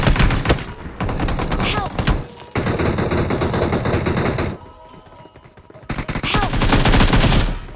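Automatic gunfire in the mobile battle royale game BGMI, loud dense bursts of shots with brief pauses and a quieter gap, while a voice calls out in between.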